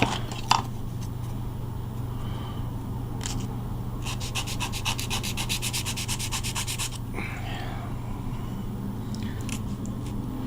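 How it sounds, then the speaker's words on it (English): Close, steady scraping of sandpaper on a car wheel well, a continuous rasp with a burst of fast rhythmic strokes in the middle, alone with no talk. "Sand her down there, like I said. Get her all sanded."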